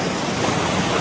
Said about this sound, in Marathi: लाटा बघा कशा लाटा येतात